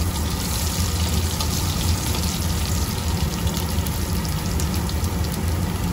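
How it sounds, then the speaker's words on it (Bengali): Chopped garlic frying in hot oil in a pan for a restaurant-style country chicken curry, a dense, steady hiss and crackle close up, with no voices. "এবার এর মধ্যে আমি রসুন কুচিটা ভেজে দেব।"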